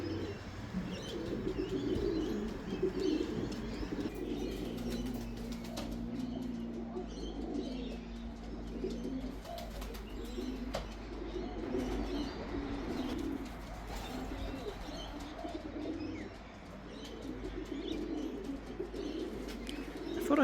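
Racing pigeons coo softly and steadily at the loft, with occasional wing flaps and faint chirps over a low continuous background rumble, at a modest distance and no voices.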